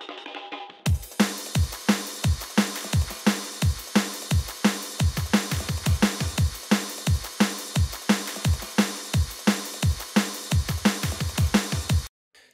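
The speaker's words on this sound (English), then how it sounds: "So this is just a clean drums bus export." Clean drum bus from a punchy, fast-paced music track, with a steady groove of deep kick hits and bright cymbal wash, loud and close, ending abruptly with no talking.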